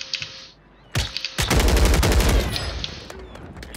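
Sniper rifle shots in a video game, a sharp single crack followed by a loud cluster of booming shots and gunfire that rings out and decays, with faint background tones.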